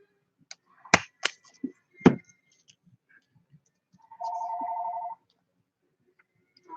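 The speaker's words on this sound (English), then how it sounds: "My phone is ringing." A phone rings with one short electronic tone lasting about a second, after a few sharp clicks and taps, in an otherwise quiet room.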